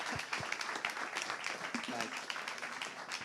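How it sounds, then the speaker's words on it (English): Small audience at a DAO governance event gives a round of applause for a speaker, scattered fairly quiet clapping mixed with talking. "A big round of applause for Rex."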